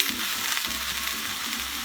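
Vegetables for chow mein frying in a pan at home, a loud close sizzle with scraping stirs and a few rhythmic clatters of a utensil against the pan, no talking.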